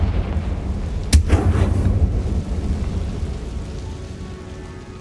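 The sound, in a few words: Confringo spell explosion from Hogwarts Legacy video game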